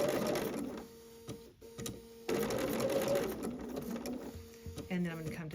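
A sewing machine hums and stitches fabric arcs in steady runs, pausing briefly and starting again, with a person talking over the mechanical whir.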